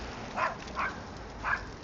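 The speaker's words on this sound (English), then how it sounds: "There go that dog again." A dog barks three short, sharp times at a moderate distance, with brief gaps between barks, over low outdoor background noise.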